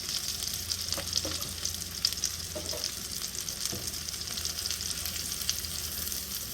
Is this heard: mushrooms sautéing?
yes